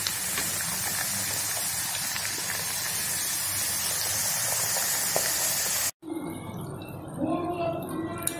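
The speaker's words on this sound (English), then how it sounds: "I am taking one by one and dropping them in the hot oil." Moong dal mathri dropped one by one into hot oil over a medium flame, giving a steady, fairly loud hiss and sizzle of frying throughout, with a brief drop-out near the end before the bubbling resumes.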